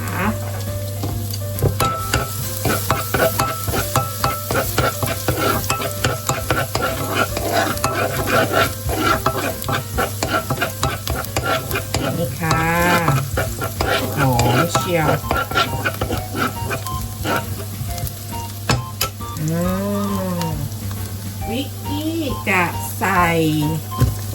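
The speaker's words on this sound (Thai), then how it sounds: "จะผัดหอมหัวใหญ่ให้สุกในระดับหนึ่งนะคะ" Garlic and onion stir-fried in a hot pan, with continuous sizzling and steady spatula stirring and scraping, while a voice talks over the cooking.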